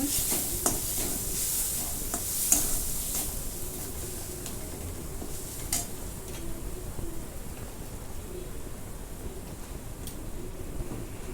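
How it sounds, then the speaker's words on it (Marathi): Turmeric is stirred into green chili, ginger and garlic sizzling in a pan for vada pav filling. A steady soft sizzle runs throughout, with sharp spoon clinks and scrapes at irregular intervals, close by and without talk. "मिरची चांगली परतून घेतलेली आहे आलं लसूण मिरची आता याच्यामध्ये हळद टाकून घेते मिक्स करून घेते हळद"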